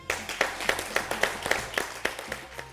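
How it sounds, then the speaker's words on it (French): Rhythmic clapping from a small audience at a French cooking contest, with sharp, evenly spaced claps about every quarter second, moderately loud and fairly close. "Et on vous applaudit"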